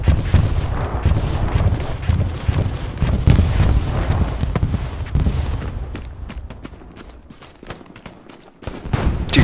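Artillery shells burst and rumble nonstop on a Hell Let Loose battlefield, a dense barrage of booms and gunfire crackle that fades briefly before more blasts hit near the end.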